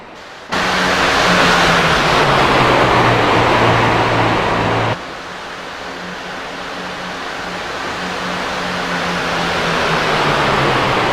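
Racing trucks of the All Pro Racing Series roar around Daytona, a steady loud engine drone with a pitch that slowly falls and then shifts as a new pack passes after a few seconds, with no voices.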